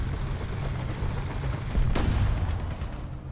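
A shot is fired at a medium tank in the tank battle game War Thunder: a single dull boom with a short crack stands out over steady low engine rumble and battlefield noise.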